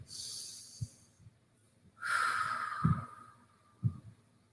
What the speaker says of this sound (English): So we are breathing.